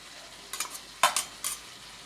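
Potato and pumpkin go into hot spiced oil in a pan, giving faint sizzling and a few quick scraping stirs of a utensil against the pan.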